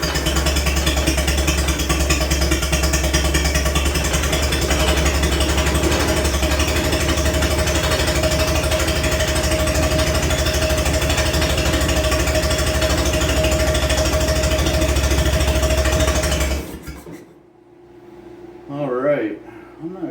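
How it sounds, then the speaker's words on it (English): A long-dormant Triumph Spitfire engine runs with a steady, loud, rough mechanical drone and rattle for most of the stretch, then cuts off, leaving brief quiet and a voice near the end. "Motor sounds good."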